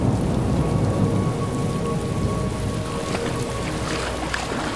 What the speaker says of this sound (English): A torrential thunderstorm breaks out.